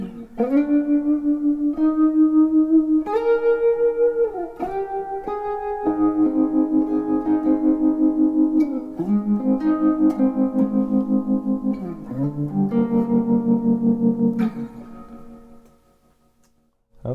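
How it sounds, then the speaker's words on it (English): A clean electric guitar through a Positive Grid Spark amp rings out in sustained chords, with a rapid pulsing tremolo wobbling the volume throughout before fading out at the end. "It's like a tremolo-y guitar tone."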